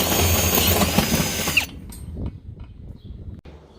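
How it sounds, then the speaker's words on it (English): A power drill bores a hole for a grain bin level sensor, running loud and steady for about a second and a half before stopping abruptly, followed by quiet handling knocks and clatter. "drill our hole for our sensor"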